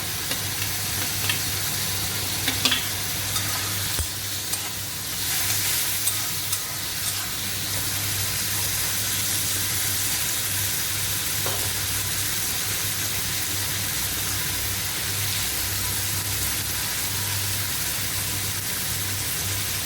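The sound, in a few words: chopped tomato frying and being stirred with chana dal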